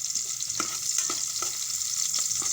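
Onion frying in a pan for pork hock adobo, with a steady close hiss of sizzling oil broken by several soft scraping stirs, and no voice.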